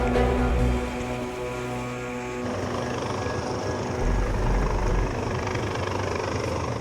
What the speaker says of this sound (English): 20 minutes after the call, the helicopter arrives.